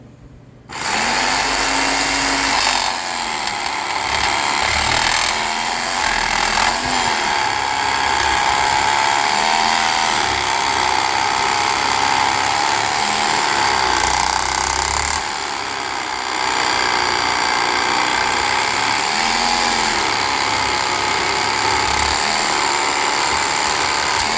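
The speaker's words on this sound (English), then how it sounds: "So obviously it has a little table jigsaw, and I never use it" A small table jigsaw built into a Toastmaster 5560 runs loudly and continuously, a buzzing motor whine with a rapid reciprocating chatter as it cuts, alone and close.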